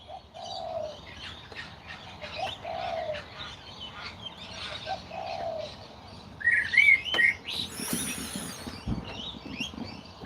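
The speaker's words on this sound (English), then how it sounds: "You got birdsong too. I've got pigeon." Pigeons coo softly in a repeated low rhythm amid outdoor birdsong that includes sparrow chirps and other sharp calls, all at moderate distance.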